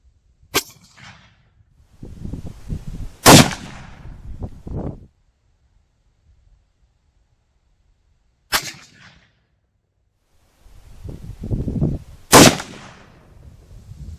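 Two pairs of sharp rifle shots outdoors from a .243 and a 6mm ARC fired into a ballistic gel block about 100 yards away, each crack followed by a rolling echo and low rumble, with quiet gaps between.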